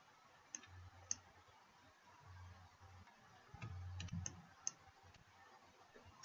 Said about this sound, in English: If you hold down your control key and click on the second line, you can select it as well.